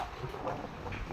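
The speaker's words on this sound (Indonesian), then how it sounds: "angin kencang tuh" Strong wind buffets the microphone outdoors during an evening torch parade, a constant rough rumble and hiss with no clear voices over it.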